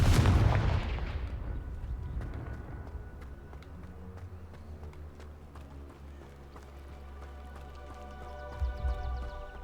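Confringo fire spell blasting in the Hogwarts Legacy video game, a loud booming burst at the start that rumbles and fades, followed by lingering game sound effects and a low rumble with a further thump near the end.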